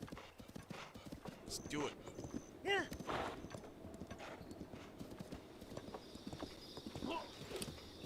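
Horse hooves clip-clop steadily in Zelda: Breath of the Wild while riding, with a few whinnies. A voice talks over the galloping rhythm and game music throughout.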